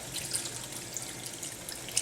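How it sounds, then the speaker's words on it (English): Water pours into a curry pan holding a Makhanwala paneer cheese curry, making a soft, steady splashing and trickling for about two seconds with no talk over it. "we're just going to put a drop more water in."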